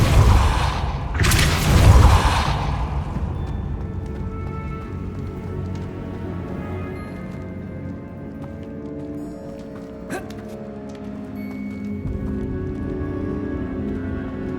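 A Depulso spell is cast in Hogwarts Legacy, opening with a loud, deep whooshing boom and impact that decays over a couple of seconds into a quieter ambient game soundscape with a soft thud later on.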